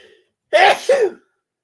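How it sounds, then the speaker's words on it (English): A single loud, close sneeze bursts out in two quick parts, preceded by brief silence. "can you mute yourself if you're gonna sneeze like that?"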